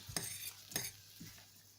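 Beetroot stalks being stirred and fried with turmeric in a pan, giving a few scraping utensil strokes over a soft, steady sizzle.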